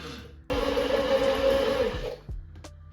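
A blender whirs loudly for about two seconds, mixing heated oil with tarragon, starting abruptly and dropping off sharply, then a brief pulse and a small clink in the quiet kitchen.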